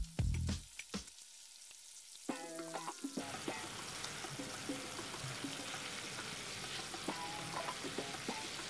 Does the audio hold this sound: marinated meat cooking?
yes